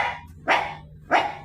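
A dog barks twice, two sharp, loud, close barks about half a second apart, reacting to a newly groomed dog with a fresh haircut, with no talking over it.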